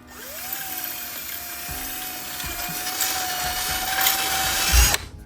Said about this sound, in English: Now that we're ready to install the switch, line it up and then drill it.